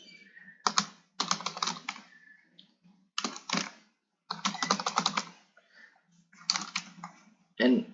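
Someone types on a computer keyboard while entering data into school management software, with quick bursts of soft key clicks separated by short pauses and a heavier final keypress at the end.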